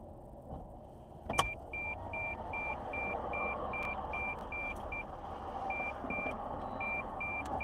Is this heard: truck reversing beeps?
yes